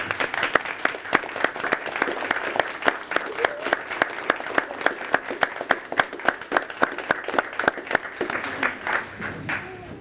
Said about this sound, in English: at least they ought to stand and clap their hands for you